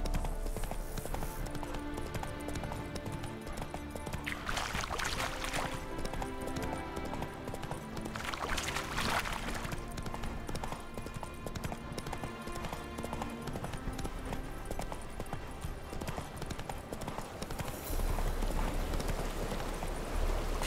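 Horse hooves clip-clop steadily in the game Witcher 3: Wild Hunt, a rhythmic gait heard under a dense bed of game music and ambience, with a voice speaking briefly.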